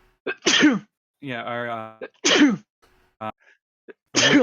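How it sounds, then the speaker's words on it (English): Three loud, close sneezes burst out in quick succession, with a brief spoken exchange in between. "Sometimes like multiple sneezes like that."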